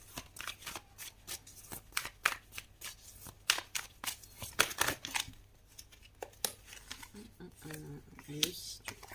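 Tarot cards are shuffled for a reading in quick, papery riffles and flicks that repeat close to the listener, with a voice talking faintly underneath.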